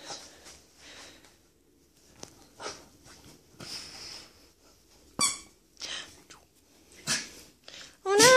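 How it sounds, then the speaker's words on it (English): A Basenji dog in a sneezing fit, a rapid series of sharp snorts, sniffs and squeaky wheezes close to the listener, separated by short pauses, ending in a loud burst. "Just had a sneezing fit."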